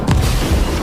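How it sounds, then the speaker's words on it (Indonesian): A car carrying a machine gun blows up in a film, a loud close boom with a deep rumbling tail that fills the short moment, no speech over it. "membuat mobil penumpang penampung senapan mesin tersebut meledak"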